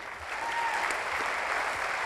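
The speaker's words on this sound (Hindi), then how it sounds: "और जोरदार तालियां बजाइए प्लीज।" Steady applause from an audience at a Safe Shop training event for silver leaders, dense clapping sustained loud and close throughout without pause.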